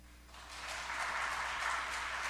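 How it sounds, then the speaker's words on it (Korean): Applause from a church congregation welcoming a gift presentation, a soft, moderately distant ripple of clapping that swells and holds steady. "전달하고 들어갈 때 큰 박수로 환영해 주시면 고맙겠습니다."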